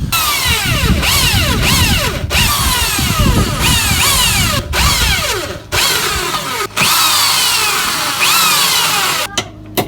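A power drill bites into metal inside the engine bay of an Audi B6 A4 during an LS V8 swap, its motor whining loudly in repeated bursts with short pauses between runs, close and alone.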